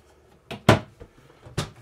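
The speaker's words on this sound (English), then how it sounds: "Drawer." Drawers in a 2024 Cherokee Timberwolf 16ML camper trailer slide open and shut, giving three close, short knocking thuds with soft rattles between them, no talking.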